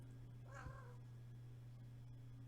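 A cat gives a single short meow, clear and fairly close, in a quiet room with a steady electrical hum and no talking.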